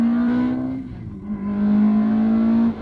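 Ferrari engine heard from outside the car, a loud, close steady drone that dips briefly and then swells back before cutting off.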